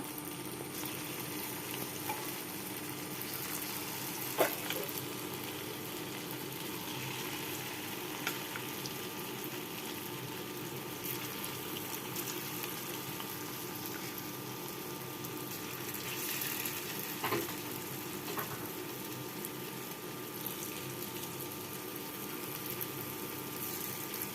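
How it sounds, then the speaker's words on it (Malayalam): Cauliflower fries in hot oil and ghee in a pan, giving a steady, even sizzle that runs throughout, with a couple of faint clinks along the way. "ചൂടായതിന് ശേഷം നമുക്ക് കോളിഫ്ലവർ ഇട്ട് കൊടുക്കാം നമ്മുടെ കടയിൽ എണ്ണ ചൂടായിട്ടുണ്ട് അപ്പോൾ നമ്മൾ നൈ ഇട്ട് കൊടുക്കുകയാണ്"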